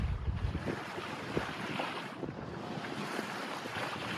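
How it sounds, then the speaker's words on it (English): Steady wind of about 4 to 6 knots blows across a sailboat at anchor off a beach in Thailand, a constant broadband rush with light water and microphone buffeting, no voices. "The wind at the moment is about 4 to 6 knots"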